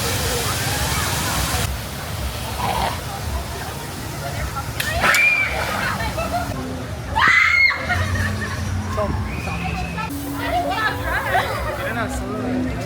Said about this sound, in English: Oh, got some screams happening up there.